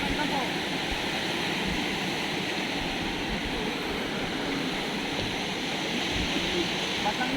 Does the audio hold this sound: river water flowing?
yes